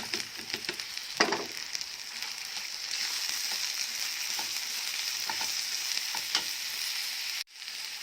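Diced peppers frying with minced meat in a pan, a steady sizzle running throughout with occasional stirring scrapes and clinks, close and moderately loud, ending in a sudden drop.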